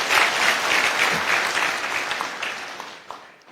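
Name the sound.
congregation applauding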